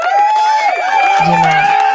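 A RØDECaster podcast console plays a canned applause and cheering effect, a short burst of crowd whoops and shouts with clapping, loud and close, mixed over a voice.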